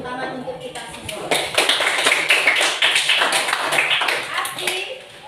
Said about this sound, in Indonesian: kalau begitu kita tepuk tangan untuk kita semua